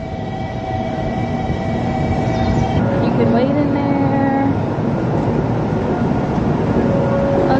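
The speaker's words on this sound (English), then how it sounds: "These are bullet trains, y'all, so that means they go by really, really fast." A Kodama bullet train passes through a station in Japan with a loud, continuous roar and whine that builds slightly, with faint tonal squeals over it and a voice speaking briefly at the start.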